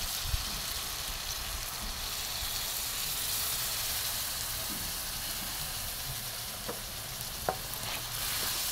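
A cooking pot of spiced food with a little milk just added, simmering with a soft steady hiss and occasional faint clinks of stirring, heard alone with no voices.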